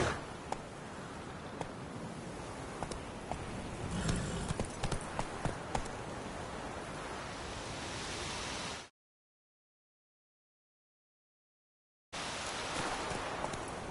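Roach the horse galloping in the video game The Witcher 3: steady rapid clip-clop of hooves over a dense rushing background, running continuously and cut off by a short silent gap.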